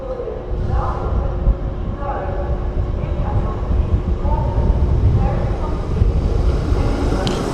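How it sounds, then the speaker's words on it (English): A TransPennine Express train pulling out of York station, a heavy low rumble of rolling stock that fills the whole stretch at close range, with a voice speaking over it. "Departing now is your heavily delayed 1505 Transpennine Express service from Newcastle to Liverpool Lime Street"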